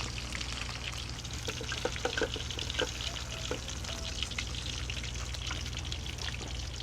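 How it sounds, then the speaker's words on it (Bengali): Hilsa fish frying at an outdoor picnic in Bangladesh, a dense, steady sizzle of hot oil with faint crackles and a low background hum, continuous throughout with no talk. "ইলিশ ফ্রাই চলছে শুধু ফ্রাই একদম শেষের দিকে"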